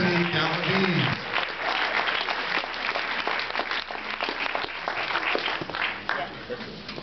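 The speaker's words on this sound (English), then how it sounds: "Another round of applause for Mr. Congeniality, Anthony Galaviz." An audience at a Mr. Toppenish 2009 pageant applauds in a sustained, dense wave of clapping that follows a brief announcement, stays strong and then tapers slightly toward the end.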